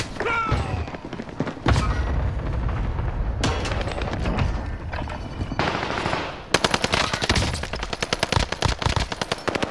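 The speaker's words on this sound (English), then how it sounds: "Taking fire! I'm under fire!" Video game gunfire with sustained automatic bursts and heavy thumping shots, loud and dense throughout, ending in a rapid, evenly spaced string of sharp cracks, with shouting voices mixed in.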